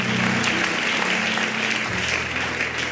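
A church congregation applauding together in a steady, dense wash of clapping that carries on throughout, loud and close, with a low hum underneath.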